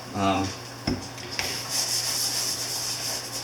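Paint remover is rubbed onto a Yamaha Virago motorcycle side cover, giving soft, close scrubbing and rubbing strokes with a few light knocks, continuing steadily throughout.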